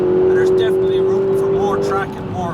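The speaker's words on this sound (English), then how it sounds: "The noise of that engine's absolutely amazing." Race car engine on a hot lap at Mondello Park in Ireland, a loud sustained high drone from inside the car with shifting pitch, heavily overlaid by a person talking throughout.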